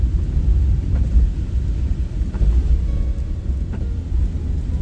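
A car rolls slowly down a steep hill, a heavy low rumble of engine and road noise inside the cabin, steady with a few faint knocks and no talk.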